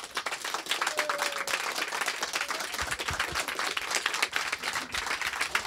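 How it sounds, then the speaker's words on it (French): A studio audience applauds Gérald De Palmas with sustained, dense clapping at steady loudness, with a faint background voice or two mixed in. "Je vous demande de faire un tonnerre d'applaudissements pour Gérald De Palmas."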